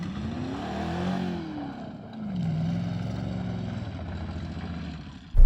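An oil-starved BMW V8 engine revs up and down in a rough, labored cycle, rising, dipping and climbing again at moderate loudness before a sudden jolt at the end.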